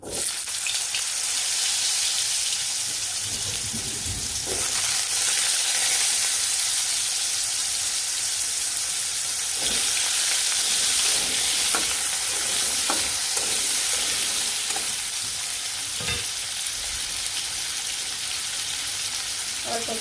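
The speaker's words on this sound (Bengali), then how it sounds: "আলু ভাজি করে নিব আজকে আলু ভাজি দিব" Potatoes frying in a pan in a village kitchen: a loud, continuous sizzle with occasional stirring scrapes and clinks throughout, close up and without talk.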